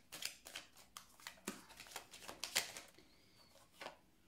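A deck of tarot cards being cut and handled at close range, a run of short crisp flicks and snaps at an uneven pace, fairly quiet with no talking.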